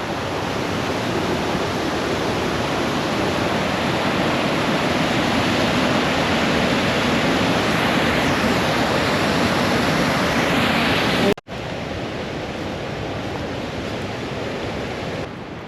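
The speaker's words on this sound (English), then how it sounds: "There's a waterfall." A waterfall roars as a loud, steady broadband rush close by, unbroken except for a brief cut near the end, with no voices over it.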